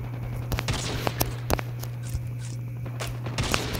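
Gunfire in the mobile shooter Call of Duty Mobile: scattered sharp single shots and short bursts over a steady hum, some close and punchy, others lighter, with faint footstep-like clicks between.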